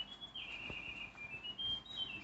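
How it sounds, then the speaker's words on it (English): A mechanical toy bird sounds a small internal whistle, giving a thin, steady, high whistling tone that wavers slightly in pitch, faint and alone, in a music museum. "This bird is not electric at all, it only uses a little whistle inside."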